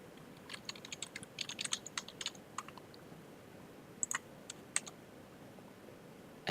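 Quiet typing on a computer keyboard, a quick burst of light clicking keystrokes, a short pause, then a few more scattered taps, close and alone in a hushed room.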